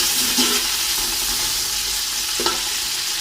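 Onions with freshly added tomatoes frying in a pan for beef mandi, giving a steady close sizzle with a couple of brief stirring clatters and no talk.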